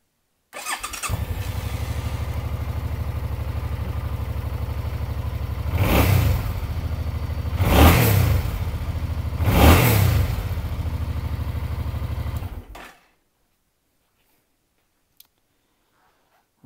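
A 2019 Suzuki Boulevard C50T 800 motorcycle engine starts and settles into a steady, close, loud idle, with three distinct revs rising and falling before it shuts off, leaving silence.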